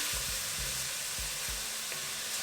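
Onions fry in a pan for Goan shrimp, giving a steady, close sizzling hiss throughout, broken by a few soft low knocks like a spoon stirring against the pan.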